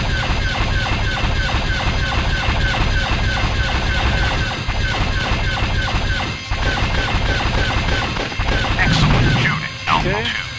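Laser fire and explosions in the Star Wars TIE Fighter space-combat game: a dense, continuous barrage of rapid blasts and crashing booms, loud and close, with a voice briefly heard near the end.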